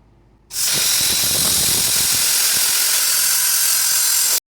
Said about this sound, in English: set up the plasma and start chopping it all up